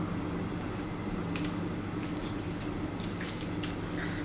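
Lemon squeezed by hand over olive oil and salt for a salad dressing: faint, close, wet squishing and dripping sounds with a few small squelches against a quiet room background.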